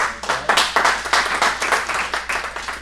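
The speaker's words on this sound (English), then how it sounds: "Ladies, round of applause." Audience applause for women real estate professionals at a seminar, a loud, dense burst of clapping with a rippling, pulsing texture that carries steadily through the whole moment.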